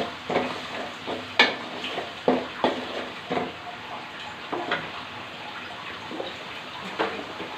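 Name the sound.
spice paste frying and being stirred in a pan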